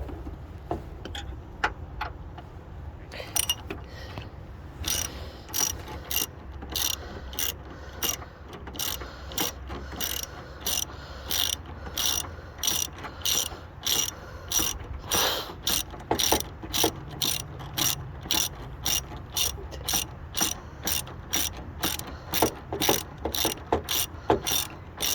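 A ratchet snugs motor mount bolts on a 2005 Honda Accord, rapid rhythmic clicking of the pawl in repeated bursts, close and crisp, continuing steadily through the whole stretch without speech.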